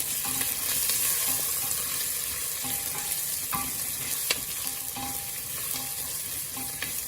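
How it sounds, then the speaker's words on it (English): Wudham frying in a pan hisses with a steady, close sizzle while a spatula stirs, scraping and tapping the pan at irregular intervals. "I'm going to add my wudham. Let me give that a little stir."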